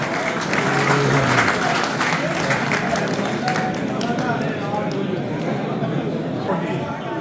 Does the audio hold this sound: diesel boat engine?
no